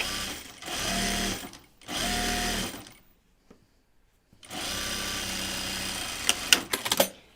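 A sewing machine stitches the side seam of an anorak in short bursts: two runs, a pause with small handling clicks, then a longer steady run ending in a few taps.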